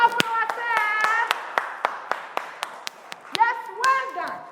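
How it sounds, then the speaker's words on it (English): Children in a primary class clap their hands for themselves, a run of sharp close claps rising and falling while a voice chatters over them. "Clap for yourself."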